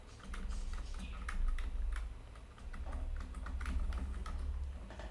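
Password typed on a computer keyboard during an account sign-in, a steady run of close, crisp key clicks with no voices.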